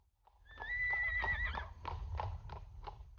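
A horse whinnies in a loud, rising, shrill call, then hooves clip-clop in an even rhythm with a low rumble beneath.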